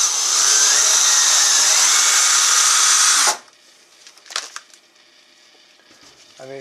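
A power drill runs loudly and steadily for about three seconds while assembling modular model railroad benchwork, then stops, leaving a few faint clicks and handling noises.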